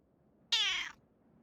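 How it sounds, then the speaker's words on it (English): An old female cat lets out a single loud, strained meow that is almost a scream, close and clear, lasting under half a second against a quiet room. "when she meows, it's sometimes not quite a meow. It's more like a scream."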